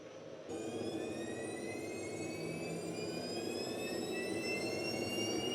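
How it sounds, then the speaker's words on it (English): Twin turbine engines of a radio-controlled F4 Phantom model jet idling in preheat mode, a steady high whine with rising tones that starts abruptly and holds loud and continuous. "So let's run these engines. So they're just in preheat mode right now."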